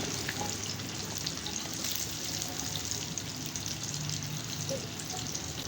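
Breaded chicken broast fries quietly in oil over medium-low heat. The sizzle is soft and even, with light stirring scrapes, and no voice is heard.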